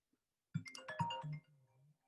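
A mobile phone ringtone for an incoming call plays faintly in a quiet room, a short melodic burst of a few notes that trails off into a softer tone.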